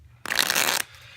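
A deck of playing cards is shuffled once, a single loud, close riffle burst lasting about half a second, with quiet before and after.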